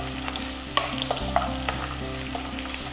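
Sliced onions fry with cloves, cinnamon, mustard seeds and cumin in hot oil, making a loud, dense, steady sizzle with light crackles and occasional stirring scrapes, and no voices.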